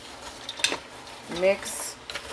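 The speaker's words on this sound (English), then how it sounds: "Caramelize them a little bit. Try to cook that flavor into those walnuts." Walnuts are stirred in a hot pan with seasoning, a soft sizzle running under scrapes and clinks of a utensil against the cookware, heard up close.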